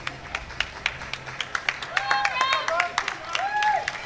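Crowd at a British classic bench press championship claps in scattered, rhythmic bursts that build into fuller applause and cheering, with a commentator talking over it and whistle-like calls rising above.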